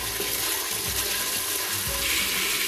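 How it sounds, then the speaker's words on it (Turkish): Meat, 300 grams, frying in half a tea glass of oil inside a pressure cooker, giving a steady close sizzle with faint stirring scrapes throughout. "Şimdi etimi iyice kavuracağım."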